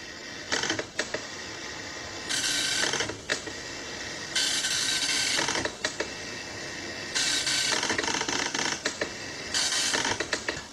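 A printer attached to a Commodore 64 prints a letter with repeated bursts of buzzy, ratcheting mechanical chatter separated by brief pauses as the carriage moves, loud and close with no talking.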